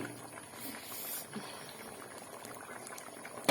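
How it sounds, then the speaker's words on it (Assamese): A masala curry mixture bubbles and simmers in a pot, a soft, steady burble of boiling liquid that stays fairly quiet throughout with no talking. "এয়া দেখিছেই উতলি গৈছে অকণমান"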